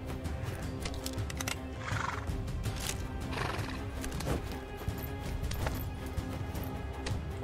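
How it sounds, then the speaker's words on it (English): Horse neighing and whinnying with clip-clopping hooves in the Frozen Lake bonus area of the Gorilla Tag video game, a steady busy mix of calls and hoof steps with no talk. "That's Horsey, by the way. The horse"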